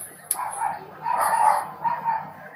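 A dog barks in short bursts at moderate distance, the barks rising and falling over a couple of seconds against faint background noise.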